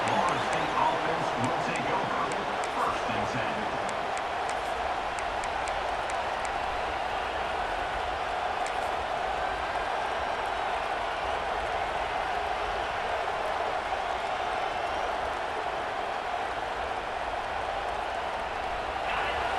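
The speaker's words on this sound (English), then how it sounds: "This crowd, full throat, splitting the eardrums and letting them know it's going to be a long day." Steady, dense stadium crowd roar fills a college football video game (EA Sports College Football 26, Florida State Seminoles), holding loud and unbroken throughout with a faint voice over it.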